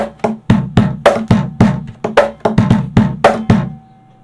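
Percussive strikes on the body of an acoustic guitar, a Freshman Apollo 4DC, blend deep kick-like thumps with sharper snare-like slaps in a steady groove of about a dozen hits, close and dry.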